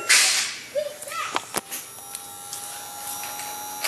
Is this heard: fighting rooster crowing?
no